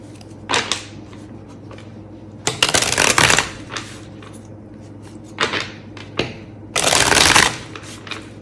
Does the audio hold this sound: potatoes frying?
no